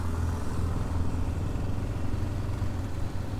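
A Yamaha Ténéré motorcycle rumbles past on a road in Paraíba, Brazil, its engine a steady, fairly close drone with some clatter, heard alone without talk.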